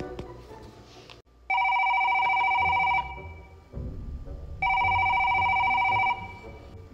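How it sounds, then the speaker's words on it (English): Two long bursts of a telephone's electronic trill ring out loud and close, each lasting about a second and a half, separated by a pause with low background room noise between them. "the phone is ringing. Yeah, it's really annoying."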